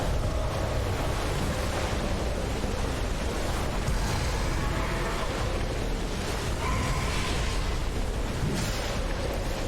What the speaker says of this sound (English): Those waves are dumb.